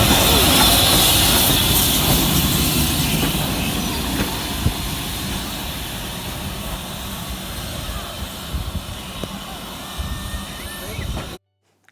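A steam train hauled by a Standard 5 locomotive on the Great Central Railway rumbles along steadily with broad, hissing noise and low chugging, gradually easing, before cutting off abruptly at the end.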